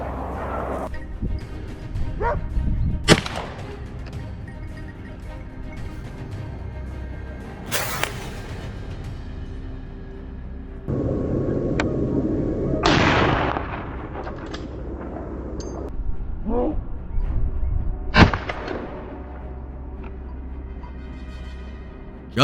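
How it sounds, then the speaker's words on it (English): Gunshots ring out during a wild boar hunt: several sharp, loud single cracks spaced seconds apart, some distant and echoing, over steady outdoor background noise with occasional rustling. "Soon after, gunshots rang out,"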